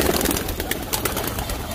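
Pigeons coo amid a dense, noisy background, the soft calls blending into a constant rushing hum, around netted pigeons.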